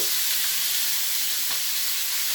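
Fish pieces frying in a pan on a simmering flame give off a steady, loud, dense sizzle that holds level throughout with no talk.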